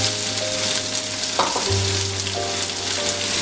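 Garlic, ginger and the white part of green onion sizzle steadily in a hot pan, a dense close frying hiss with a few faint stirring clinks and no talking.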